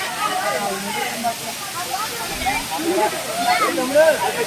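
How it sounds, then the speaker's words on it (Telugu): A rushing waterfall at Rampa in Andhra Pradesh roars as a steady, broadband wash of falling water, with voices talking faintly over the continuous noise. "ఫైనల్గా మనం సాధించామని వాటర్ ఫాల్ దగ్గరికి అయితే వచ్చాం."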